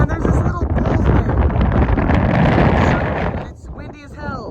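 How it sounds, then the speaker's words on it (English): Strong gusting wind buffets the microphone on a canyon top at U-Turn Canyon, a loud, continuous roar that eases near the end as people talk over it. "It's windy as hell."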